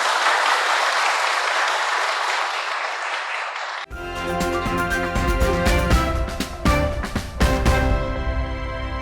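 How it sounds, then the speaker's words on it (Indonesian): An audience claps at a traditional Jaran Kepang folk art presentation, a dense burst of applause that gives way abruptly to loud music with tonal instruments and percussion. "tepuk tangan."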